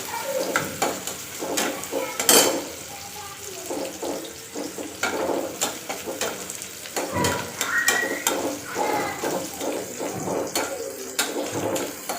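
Whole, uncut tomatoes fry in a pan for a jackfruit curry, giving a close, continuous sizzle with repeated clattering and scraping of the pan and spoon.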